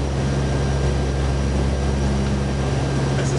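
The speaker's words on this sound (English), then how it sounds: "That was takeoff." Inside a NASA P-3 Orion four-engine turboprop flying over the Greenland ice sheet, a loud continuous propeller drone with a deep steady hum and engine tones holds unchanged throughout.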